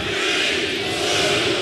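Dense, steady roar of a large baseball stadium crowd during a late-night Toronto Blue Jays vs New York Mets game in New York, loud and sustained with no break.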